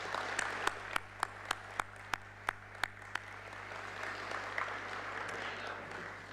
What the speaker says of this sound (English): Let's give her another warm round of applause.